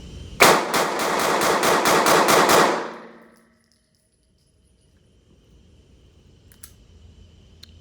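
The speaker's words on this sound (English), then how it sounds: "shooting rapid fire at 5 yards with a little micro compact gun" A Sig P365 micro compact pistol fires a rapid string of about ten loud close shots in quick even succession, then stops, leaving near silence with a couple of faint clicks.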